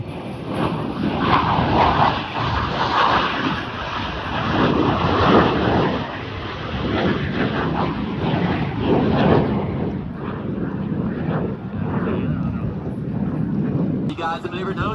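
Blue Angels jets fly an aileron roll during a practice show at Pensacola, Florida, a steady, loud, rushing roar that rumbles on under continuous announcer commentary.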